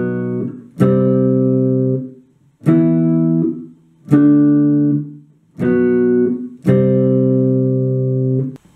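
An electric guitar plays the intro of a song as five loud, sustained chords, each struck sharply and left ringing for about a second before a short gap, played alone with no voices.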